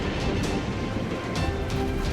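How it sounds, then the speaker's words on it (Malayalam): A train reversing in the video game Rudra: The Rise of King Pharaoh rumbles steadily with low rolling noise and faint rhythmic clatter, close and continuous throughout. "ഇതെന്താ ട്രെയിൻ ഓട്ടോമാറ്റിക് ആയിട്ട് റിവേഴ്സ് പോകുന്നേ"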